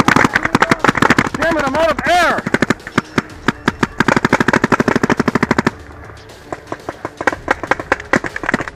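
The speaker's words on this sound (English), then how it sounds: "we're going to try and give him some covering fire" Airsoft guns fire during a Clowns v Zombies skirmish in rapid, loud bursts of close automatic shots. Voices shout briefly among the bursts, and more distant, sparser shots follow.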